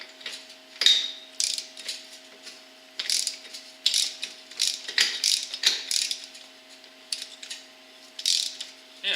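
A ratchet with a 1.25 inch socket works on a Polaris Sportsman ATV front axle nut, giving repeated bursts of sharp metallic clicking in uneven strokes, close up, over a faint steady hum.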